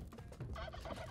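A turkey in Spelunky 2 lets out a throaty, warbling gobble, close and fairly loud, filling the whole short moment.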